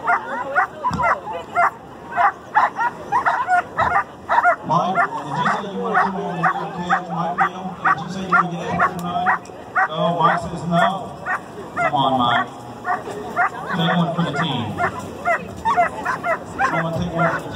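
Several dogs bark and yip excitedly in rapid, overlapping bursts, with some whimpering and crowd noise mixed in.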